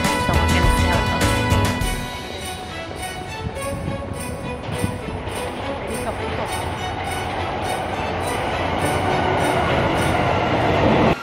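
A train pulls into a station near Yokohama, Japan, with a loud, close rumble and a rhythmic clicking of wheels over rail joints that continues throughout.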